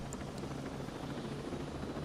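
A helicopter in the Ghost Recon Breakpoint video game gives a steady, continuous rotor and engine drone that stays at an even level throughout, with no talk over it.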